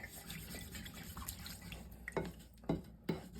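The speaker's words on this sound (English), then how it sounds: "we're going to add water anyway" Water being poured into a stew pan with bean stew, a soft faint trickle and splash with a few distinct drip-like plops near the end.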